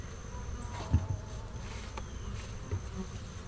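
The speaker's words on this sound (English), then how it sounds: "We got a lot of bees in these 2 boxes." Many honey bees fly around two hive boxes during an October inspection, a continuous buzz with a few louder close fly-bys and a soft knock.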